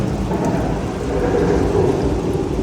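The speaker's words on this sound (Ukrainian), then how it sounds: "Пішов дощик." Loud, steady rushing patter of water falling like heavy rain from a water-cycle model at a science museum in Lviv, continuous and close, with no voices.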